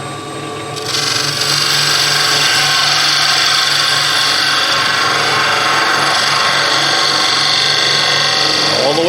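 A skew chisel makes a facing cut on a wood top spinning on a lathe, giving a loud, steady, close hiss and scrape over the motor's hum after a short quieter start.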